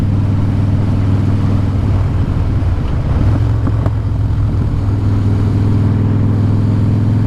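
A 2014 Harley-Davidson Breakout FXSB motorcycle leaning through a 30 mph turn, its steady low engine drone partly buried under constant, loud wind rush across the microphone.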